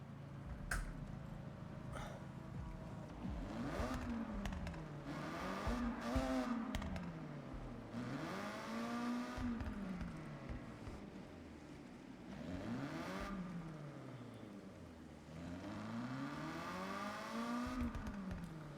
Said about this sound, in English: The car sounds pretty nasty, so I like it.